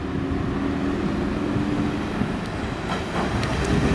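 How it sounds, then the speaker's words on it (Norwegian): A Danish IC3 passenger train rolls past steadily, with a loud, even rumble of wheels on rail and a few faint clicks toward the end, close by and with no voices. "Her har vi IC3-toget."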